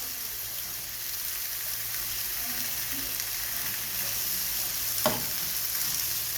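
Curry shrimp frying in a pan, a steady close sizzle and crackle throughout, with a brief stir or scrape near the end and no talking.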